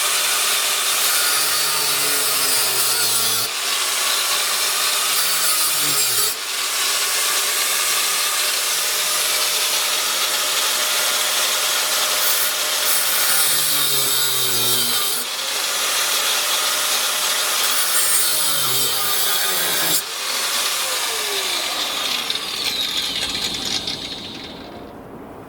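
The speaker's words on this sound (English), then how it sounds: "There's a few little sections here that need to be chopped away with an angle grinder." Angle grinder cutting away small metal sections of a Mean Mother recovery track mount plate, a loud continuous high whine that holds steady for about twenty seconds with brief dips as the cut shifts, then winds down at the end.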